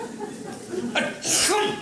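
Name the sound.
sneeze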